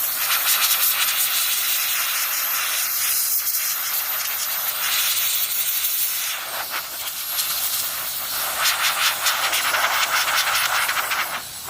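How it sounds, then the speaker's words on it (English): Compressed air hisses loudly and steadily through an RX580 mining graphics card to blow out water after washing, a continuous broadband rush with slight surges and no voices. "we're gonna get the compressor to discharge right now"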